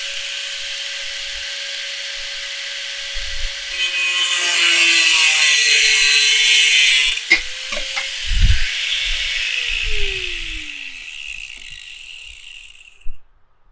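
A cutting wheel grinds through metal while modifying a Weber Go Anywhere smoker: a loud, close, hissing grind of a few seconds that winds down, followed by scattered knocks and scrapes.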